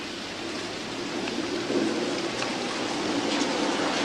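Steady rain falls outdoors in Memphis, a broad even hiss with slight swells of intensity, no voices heard.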